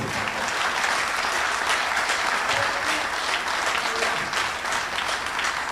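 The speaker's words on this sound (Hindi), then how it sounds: "अगर आपको लगे मैंने आपका सही सम्मान किया एक बार ताली बजा के मेरा" A crowd at a Hindi comedy poetry recital breaks into loud, sustained applause, a steady, even roar of many hands clapping for several seconds with no pause.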